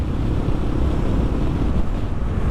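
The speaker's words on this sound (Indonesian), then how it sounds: "Ini anginnya sangat kencang ya teman-teman." Strong wind buffeting a microphone beside a road near the Tulungagung toll exit, a steady low roar and rumble that holds loud and unbroken with no voices.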